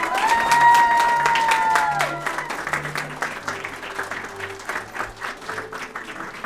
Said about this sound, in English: We encourage guests to have a competition to see who can cheer the loudest.